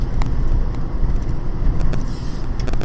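A Fiat 500 Convertible with a slipping clutch driving along, heard as a steady, fairly loud low road and engine rumble with wind noise and no speech.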